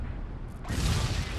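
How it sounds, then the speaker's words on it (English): An explosion blowing open a floor in the game Shadow Complex: a low rumbling bed swells abruptly into a deep, heavy blast that rolls on loudly to the end. "Blow up the floor of the missile again"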